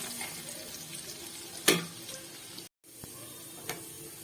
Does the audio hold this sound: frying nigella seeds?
yes